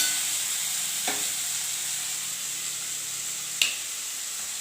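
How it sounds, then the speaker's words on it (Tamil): Onions frying in hot oil for a jackfruit kurma give a steady, soft sizzle close by, with two brief clinks of a stirring spoon against the pan and no talking. "போதும் பொரிஞ்சிச்சு பாருங்கள் வெங்காயம் போட்டுக்கலாம்"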